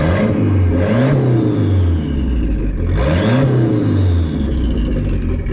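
A turbocharged 2.2L Chevy S10 engine runs loudly and close, rising and falling through two strong revs with whirring turbo tones and a steady idle rumble between them.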